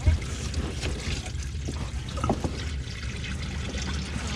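A steady stream of engine oil drains from a Ram truck, trickling and splattering continuously, close and fairly loud, with faint background noise.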